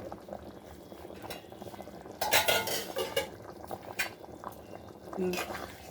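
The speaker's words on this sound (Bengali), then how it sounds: "এখন ঢাকাটা খুলে নেব" A lid lifts off a cooking pot of boiling liquid with a bright metallic clatter, followed by bubbling and light utensil knocks, while a voice murmurs in the background.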